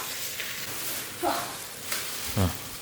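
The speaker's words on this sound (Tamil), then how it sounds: "இதை நல்லா வதக்கிக்கலாம்." Soft continuous sizzle of onion, ginger-garlic paste and mint frying in a pan, with a couple of brief utensil scrapes and clinks standing out near the middle and end.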